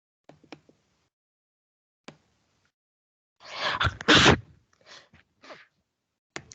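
A single loud, forceful sneeze bursts out after a short quiet stretch, followed by a few faint breaths and small rustling clicks.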